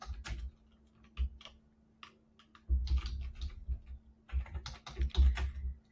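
Someone types a name on a computer keyboard, with soft, close, irregular key taps in several short bursts and brief pauses between them, over a low steady hum.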